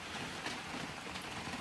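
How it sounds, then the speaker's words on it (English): Rain falls steadily on and in front of a lean-to cabin on a long-distance trail, a faint, soft continuous patter with no talking. "of just rain falling out front of the cabin, rain falling on top of the cabin"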